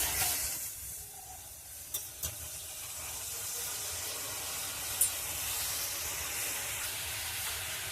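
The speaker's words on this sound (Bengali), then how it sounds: "জলটা ফুটে গেছে" Water heating in a wok before jaggery is added gives a soft, continuous hiss and faint bubbling, steady and fairly quiet throughout, with a few small knocks.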